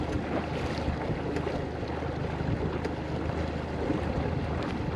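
A fishing boat runs along on open water, its steady engine drone mixed with wind buffeting the microphone and water churning around the hull, constant and fairly loud throughout with no talk.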